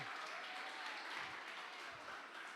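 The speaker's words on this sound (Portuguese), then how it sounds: "Dá uma salva de palmas para o Hugo." A church congregation applauding for a man about to be baptised, a steady wash of distant clapping with no voices over it.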